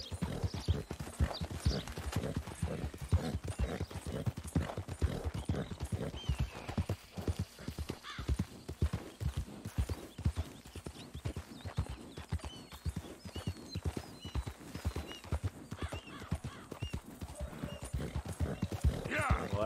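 Horse hooves galloping steadily in Red Dead Redemption 2, a fast continuous clip-clop rhythm from a tired horse crossing the map, with someone talking over it.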